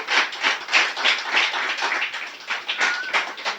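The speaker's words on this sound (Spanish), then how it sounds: "Dele un aplauso a Cristo." A church congregation applauds in a sustained, steady round of many hands clapping, moderately loud and continuous with no talking over it.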